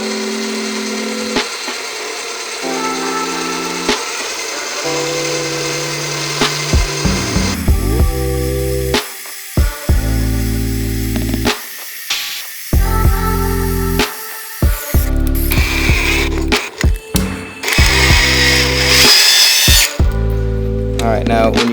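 Power drill boring open holes in the intake manifold of a Mk8 Golf R, loud close whirring in repeated bursts that start and stop, with speech at times among the runs.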